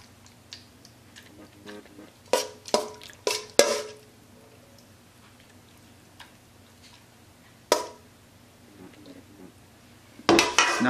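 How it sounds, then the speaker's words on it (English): Oyster mushrooms are added to a pan for a plant-based mole, making a quick cluster of clinks and clatters against the cookware. Quieter scattered taps follow and a voice talks nearby. "So now I'm going to add the oyster mushrooms."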